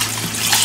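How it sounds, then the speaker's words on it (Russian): Cold running water pouring steadily over rice being rinsed, a brief close, continuous splashing flow with no talk. "надо хорошо промыть под холодной проточной водой рис"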